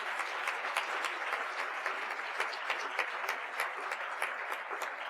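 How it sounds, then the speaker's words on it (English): Sustained applause from an audience, many hands clapping steadily at moderate volume with no voices on top. "So a round of applause for everybody."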